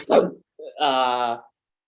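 A man imitates a DMX-style dog bark with his voice: a sharp gruff bark, then a longer, drawn-out growling bark, both loud and close.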